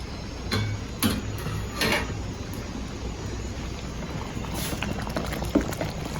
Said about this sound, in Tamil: இப்போ இந்த விழுதை ஊற்றி ஒரு ரெண்டு நிமிஷம் கொதிக்க விட்டுருக்கேன்